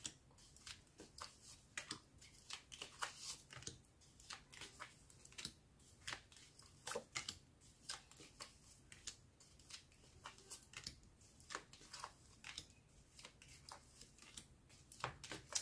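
Tarot-style cards shuffled and drawn for a four-card reading, a steady run of soft riffling flicks and snaps close up, repeated throughout with no talking.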